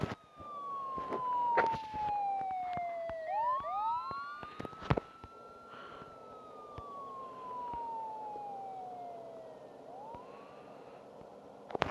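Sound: police siren chasing fire truck in video game Petrolhead

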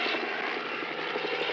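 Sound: helicopter noise in a film scene

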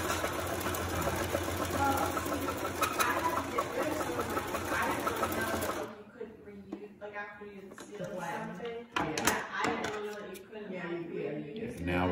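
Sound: sewing machine stitching and backstitching a fabric mask

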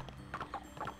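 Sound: foal walking, hooves clip-clopping, from video game Barbie Horse Adventures

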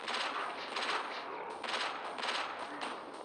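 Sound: gunfire in the video game Johnny Trigger

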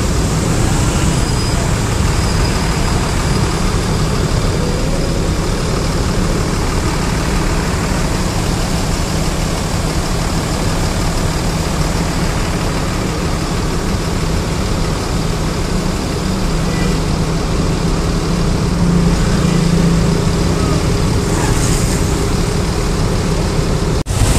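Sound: road traffic in a traffic jam

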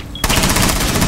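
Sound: gunfire in video game Rainbow Six Siege

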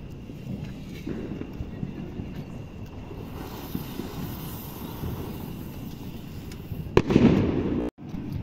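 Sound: Diamond anar fountain firework being lit

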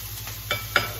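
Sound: food frying in a pan

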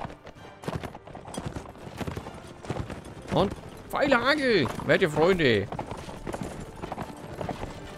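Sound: horses galloping in the video game Mount & Blade Warband

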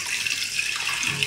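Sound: water running from a tap

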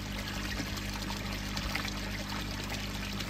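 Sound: water flowing into a fish pond

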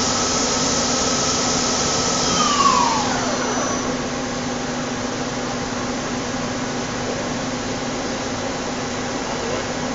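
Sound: Daewoo Puma 400 CNC lathe spindle running in high gear

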